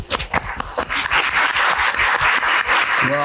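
A courtroom audience claps after a paternity result is read on a court television show, a sharp burst of applause that starts with separate loud claps and swells into a steady crowd roar, fading near the end.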